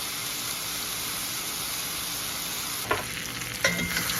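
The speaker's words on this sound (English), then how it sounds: "I'm gonna let this steak probably cook for about 5 minutes on each side" A rib eye steak sears in a hot pan with a continuous, close frying sizzle, with a couple of short clattering bumps near the end.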